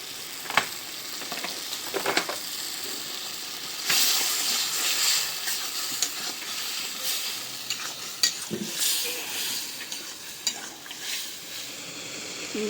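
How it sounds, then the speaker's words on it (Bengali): A spice paste of turmeric, chili and coriander powder with melted tomato and onion sizzles steadily in a hot pan, a constant frying hiss punctuated by occasional scrapes and bursts as it is stirred. "মশলাটা ভালো করে কষাই নিলাম"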